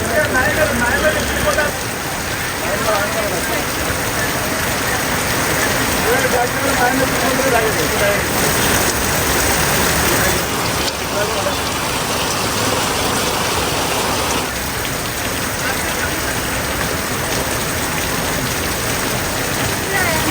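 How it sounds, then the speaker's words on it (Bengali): A short rain shower falling on a roof, a dense, steady patter that lasts throughout, with people talking over it. "পাঁচ মিনিটের একটা বৃষ্টি"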